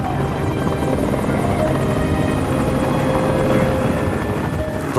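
A helicopter airlifting a patient to a hospital in Anchorage, Alaska, drones loudly and steadily with a constant rotor buzz, close and unbroken throughout.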